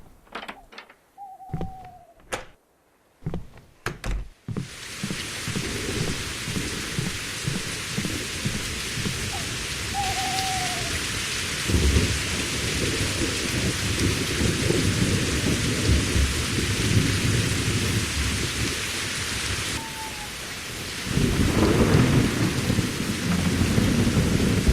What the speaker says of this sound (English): I switched to another map and then it started raining.